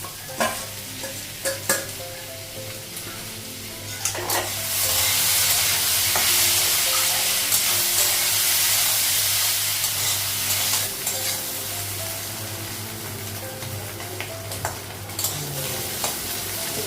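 Potatoes fry in a pan with a loud, continuous sizzle and irregular stirring and scraping strokes close by, with no talking.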